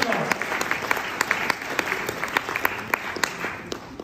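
A high school seniors' audience claps through a presentation, a steady patter of hands with sharp individual claps popping out, moderately loud and sustained.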